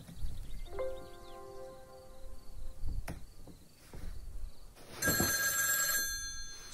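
A telephone rings in the Kings and Royalty film, a trilling electronic bell that repeats over a faint background, with a louder burst of ringing near the end.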